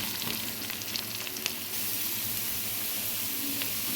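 Meal maker soy chunks frying in a pan after ginger and garlic, a soft, even sizzle with a few light crackles and a faint stirring scrape, quiet and continuous.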